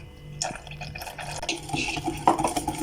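Milk poured into cake batter in a bowl, a close gurgling, splashing flow that grows busier toward the end.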